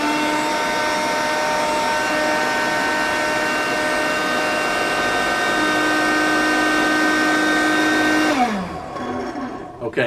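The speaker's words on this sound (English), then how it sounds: "So we'll just vacuum this in a laboratory setting 30 to 45 seconds." A vacuum runs steadily on a sample device in a laboratory, a loud constant whine holding for about eight seconds before the motor winds down and stops.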